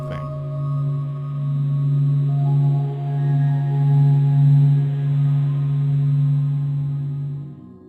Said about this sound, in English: that simple sound is giving us a probe inside of a star